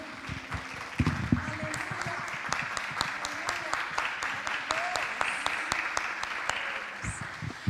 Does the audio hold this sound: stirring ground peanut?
no